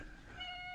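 A house cat gives a short, faint meow that rises at the end, heard alone over a quiet room.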